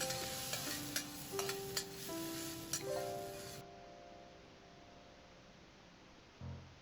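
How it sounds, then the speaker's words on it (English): Red chili pepper stir-fries in leftover oil, a low sizzle with several stirring clacks of a utensil against the pan, fading toward quiet with one late knock. "Use the leftover oil to stir fry the red chili pepper."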